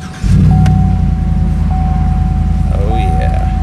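A 2015 Chevrolet Silverado 1500 Rocky Ridge Callaway Special Edition V8 pickup cranks and catches, then settles into a deep, steady idle rumble, loud and close, with a chime ringing over it.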